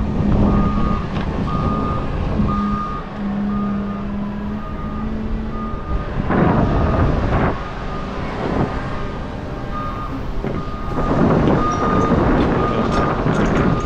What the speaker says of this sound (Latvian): Vai, ko man brauc, laikam otrā mašīnīte.